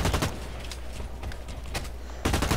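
Gunfire in a video game sounds as sharp repeated shots at the start, scattered single cracks in the middle, and a dense rapid burst at the end, all loud and close.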